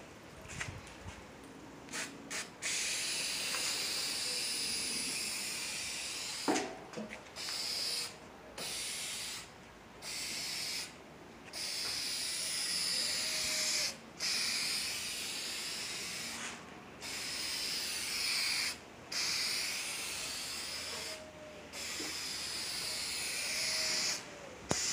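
A rattle-can aerosol sprays a second coat of paint onto a car fender from a Volkswagen Passat, in long steady hissing bursts separated by short pauses, close and fairly loud with no talk.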